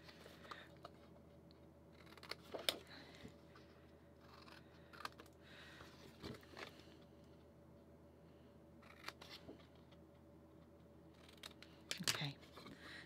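Scissors cut paper for a handmade gift box, making faint, quiet snips spaced out over several seconds, with a short cluster of cuts near the end.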